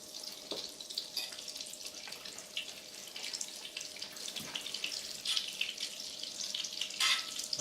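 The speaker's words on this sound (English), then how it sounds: "So the butter's just cooking down." Butter melting down in a pot for New England clam chowder gives a steady, soft crackling sizzle, moderately close, with brief clinks and scrapes from stirring now and then and no talking.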